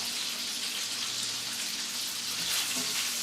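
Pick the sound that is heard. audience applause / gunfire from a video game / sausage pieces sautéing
sausage pieces sautéing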